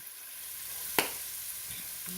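Squash, peppers and onions sizzle in a pan while being stirred, a steady frying hiss with one sharp scrape or clatter partway through, close and moderately loud with no talking.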